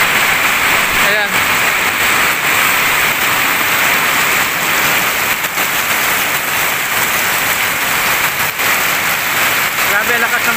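Heavy rain pours down hard at an outdoor work site in the Philippines, a dense, loud, unbroken hiss of water that fills the whole stretch.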